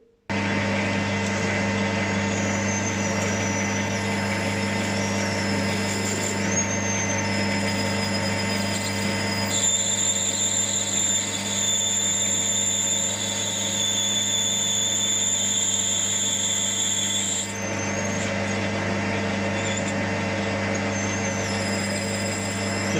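A power drill boring a hole in a 2-inch scale Fowler showman's traction engine governor part, a steady close whine with a constant low hum and pitch shifts as the bit cuts, continuous throughout without talk.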